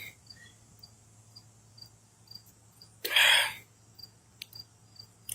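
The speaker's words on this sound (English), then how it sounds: "crickets in the background." Crickets chirp steadily in the background, a faint, regular high-pitched pulsing that runs throughout, briefly interrupted by a louder burst of noise in the middle.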